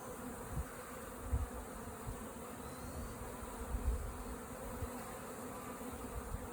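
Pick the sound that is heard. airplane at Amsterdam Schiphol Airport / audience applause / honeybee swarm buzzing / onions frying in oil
honeybee swarm buzzing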